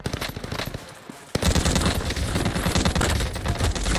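Automatic gunfire from Call of Duty Warzone Pacific on the Caldera map, a weapon with no barrel attachment: sustained rapid bursts that break off briefly, then resume louder and denser for the rest of the stretch.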